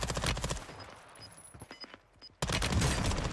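M13 submachine gun fire in Warzone 2 rattles out in a loud rapid burst, fades to scattered quieter shots and game sounds, then erupts again into another sustained burst.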